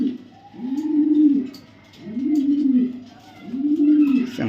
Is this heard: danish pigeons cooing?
yes